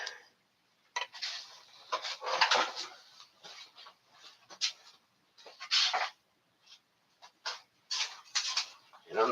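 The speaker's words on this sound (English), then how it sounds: "Now I'll take my scissors and cut it out." Scissors cutting through vinyl for upholstery work, a series of close, crisp snipping and crunching bursts in irregular clusters separated by short silences.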